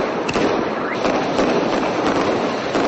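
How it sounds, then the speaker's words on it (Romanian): Fireworks burst at a midnight New Year's celebration on the esplanade of the Palace in Bucharest, a dense continuous crackle of loud pops and thumps with whistling streaks rising through the din, steady and close for the whole stretch. "cel mai spectaculos foc de artificii"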